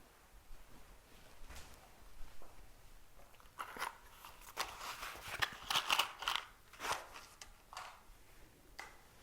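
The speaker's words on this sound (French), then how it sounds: "je vais allumer la flamme de notre temple" A match or lighter is struck to light a temple flame during a Christian Essene church service, with faint scratching, crackling and rustling bursts clustered in the middle, quiet and close.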